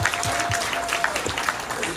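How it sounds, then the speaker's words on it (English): Convention panel crowd applauding at a Revenge of the Nerds panel at Days of the Dead Chicago, a brief loud burst of clapping with voices and cheers mixed in. "he deserved it round of applause"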